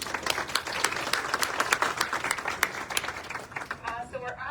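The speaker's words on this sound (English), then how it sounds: "Let's give her a round of applause." An audience at a fall fashion show applauds steadily, many sharp hand claps blending into a continuous wash that fades near the end as voices start up.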